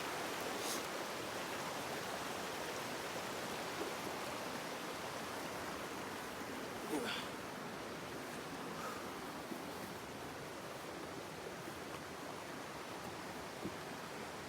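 A forest river flows with a steady, broad rushing wash that stays even and fairly soft throughout, with no voices.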